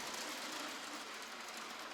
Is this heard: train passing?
yes